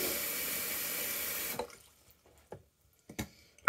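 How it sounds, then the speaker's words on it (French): Water from a kitchen faucet runs steadily onto the handle in a close, continuous hiss, then shuts off abruptly, leaving a few faint drips and small clinks. "Parce que l'eau coule sur la poignée."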